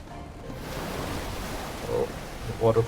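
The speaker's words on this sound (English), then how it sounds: "Oh, the water follows us in." Rushing water floods into a space in the video game The Unfinished Swan, a steady surging wash of moderate loudness, with a few faint tonal game cues near the end.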